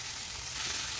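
Vegetable stalks, with curry leaves, fry in a hot pan as a brief, even, close hiss of sizzling, with a faint stirring texture and no voices.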